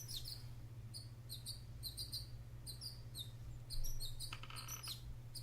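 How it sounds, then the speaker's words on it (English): A bird chirps close by outside a home art studio in a bonus room, giving quick repeated high bursts of tweets throughout over a steady low electrical hum, with no talking. "Sorry if you can hear that bird."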